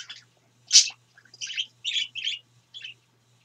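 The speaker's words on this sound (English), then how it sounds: "there was some birds up in the bird feeder" Several small birds at a backyard bird feeder chirp in short, bright bursts, about six calls spread over a few seconds with brief silences between, fairly close with a faint steady hum underneath.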